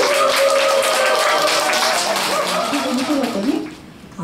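Dense audience applause fills a small indoor radio book concert, steady clapping that holds for about three seconds before thinning out, with a voice briefly rising near the end.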